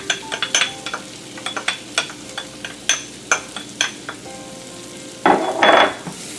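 Half a shallot drops into a hot pan of bordelaise sauce base and sizzles, with repeated stirring scrapes and clinks of a utensil across the pan, ending in a louder burst of frying.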